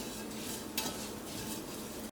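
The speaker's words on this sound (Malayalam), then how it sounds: "ഈ സേമിയ നല്ലൊരു ഗോൾഡൻ കളറായിട്ട് വറുത്തെടുക്കണം." Short-cut semiya vermicelli is roasted until golden in a pan for pudding, making a quiet, steady dry sizzle with one brief scrape of a stirring spoon partway through.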